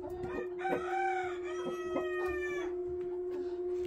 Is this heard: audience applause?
no